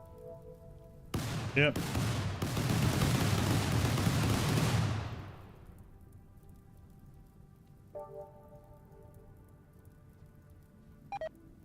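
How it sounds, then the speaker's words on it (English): Ammunition and grenades cooking off in RimWorld, a dense crackling burst of rapid small detonations that swells for several seconds then fades, followed by a few isolated pops and a brief spoken word. "Got the ammo and grenades cooking off"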